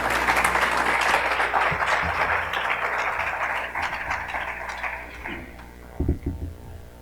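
An audience at a CPR symposium applauds to welcome a speaker, a steady wash of clapping that slowly fades, ending with a few scattered knocks.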